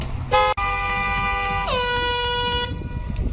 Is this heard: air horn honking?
yes